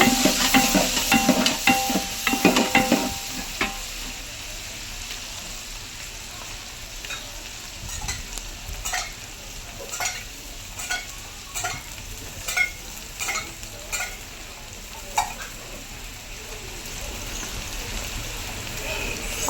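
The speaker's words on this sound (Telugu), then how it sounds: "ఆనియన్స్ని అయితే బాగా ఫ్రై చేసుకోవాలి" Onions sizzle and crackle in a pan, with scraping stirs at intervals; louder at the start, then a steady quieter sizzle with occasional clinks.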